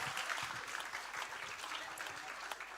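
An audience at a student competition grand final applauds a judge, a dense, loud burst of many hands clapping that holds steady and unbroken throughout, with no voices over it.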